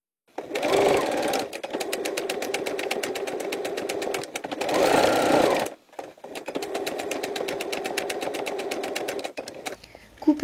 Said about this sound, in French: coudre à 1 cm en repassant plusieurs fois comme sur l'autre côté